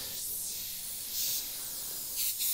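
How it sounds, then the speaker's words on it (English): Awada Neo TRN1 trigger airbrush spraying paint, a soft steady hiss of air with a few brief louder bursts, fairly faint and without talking. "pull back a little bit further for paint, and you can see it's like a mini spray gun essentially"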